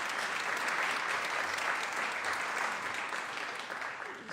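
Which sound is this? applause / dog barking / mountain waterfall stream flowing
applause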